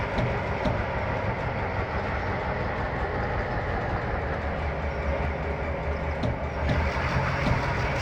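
A train runs steadily in the Trainz Simulator World Tour video game, a continuous loud rumble with rail clatter and engine drone that holds even throughout, with a few faint clicks near the end.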